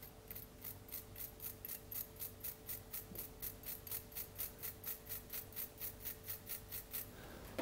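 A toothbrush loaded with watercolor paint is flicked over and over to spatter, making a quick, even series of soft, close scratchy ticks, about four per second, with no talking.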